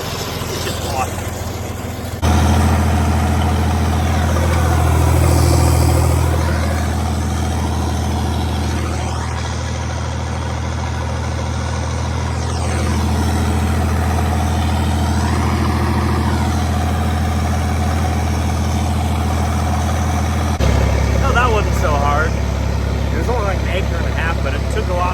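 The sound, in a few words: John Deere 4020 tractor engine running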